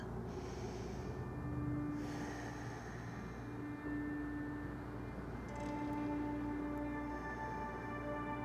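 Deep, slow breaths drawn in during a beginner morning yoga flow, a long continuous airy inhale and exhale over a steady hum, no talking.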